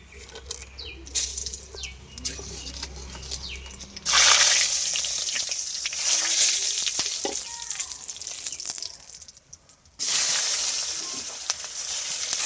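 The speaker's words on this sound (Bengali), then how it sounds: "মাংসের জন্য এখন ফোড়ন করে নেব গোটা গরম মশলা দুটো তেজপাতা দুটো শুকনো লঙ্কা" Whole garam masala, two bay leaves and two dry red chillies tempering in hot oil for goat curry, a loud bursting sizzle that swells, drops briefly and surges again, with handling noises between.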